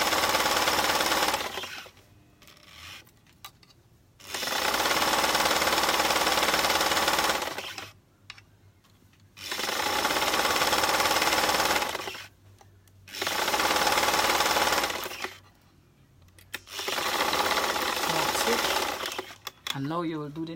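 Sewing machine running a skirt side seam for an easy maxi skirt, loud and close, in four long steady bursts separated by short pauses.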